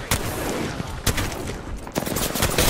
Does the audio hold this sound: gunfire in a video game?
yes